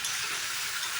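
Water poured onto fried spice paste for a papad curry sets off a steady, loud hissing sizzle close up, continuous for about a second with no voices.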